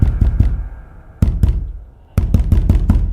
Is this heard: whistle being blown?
no